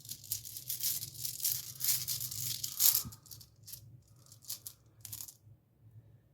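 Small hard rune stones rattle and clatter together in quick bursts as they are shuffled, close and quiet, with brief pauses between shakes and no voices.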